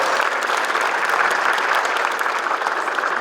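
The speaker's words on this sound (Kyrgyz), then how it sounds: "Айрыкча бүгүнкү ушул чемпион Ош Пес командасына бир дүркүрөгөн кол чабып койсок" Dense, even applause from an audience at a football league awards ceremony, cheering the champion team Osh Pes, a continuous close roar of clapping without break.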